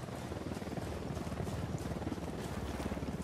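A patrol helicopter in the video game Ghost Recon Wildlands thrums as a steady, fairly distant rotor chop under a windy rumble that continues for a few seconds.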